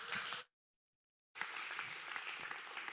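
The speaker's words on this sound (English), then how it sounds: "Give him a round of applause." A church congregation applauds, a short burst of clapping that cuts to silence and then resumes as steady, full applause from a large room.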